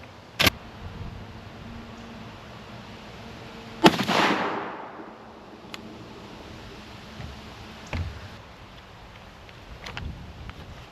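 Beretta A400 Xtreme Plus shotgun firing Kent Fasteel 3-inch 1 shot shells outdoors, with a few sharp, separate blasts spaced seconds apart, one loud report trailing off in a rumbling echo over wind noise.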